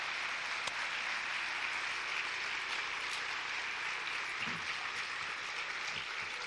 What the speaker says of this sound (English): Let's have one more round of applause for all of the recipients